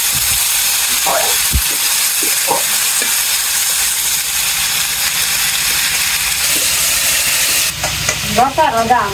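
Onions and cumin fry loudly in a pan, a strong, steady sizzle and hiss with occasional stirring knocks, while voices briefly break in near the end.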